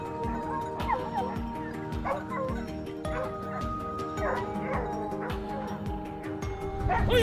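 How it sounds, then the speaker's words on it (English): A hound barks repeatedly during a wild boar hunt, its yips and bow-wows sounding at mid distance in quick irregular bursts over a steady outdoor background with a tonal hum. "The hound's barking quickly guided Nick's hurried footsteps forward."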